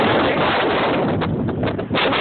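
Strong wind roars during a Chicago snowstorm, a loud, continuous rush buffeting the microphone at close range.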